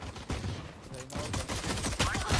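Rapid gunfire bursts from a first-person shooter match in Valorant, loud and dense throughout with short pauses, mixed with other game effects.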